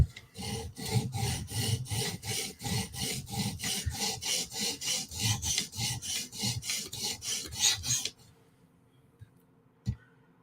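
A knife blade worked back and forth on a sharpening stone, fast rhythmic rasping strokes for about eight seconds, then quiet with a single knock near the end.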